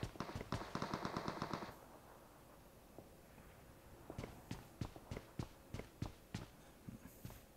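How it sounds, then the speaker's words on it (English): Gunfire in the mobile battle royale game PUBG Mobile, heard as a fast burst of automatic shots followed by a string of separate single shots, loud and sharp with no talk. "Ooh, shots already."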